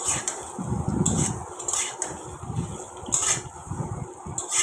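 Potato and soybean curry being sautéed and stirred in a pan, with repeated scraping and clinks of a spoon against metal over a steady background hum; no talking.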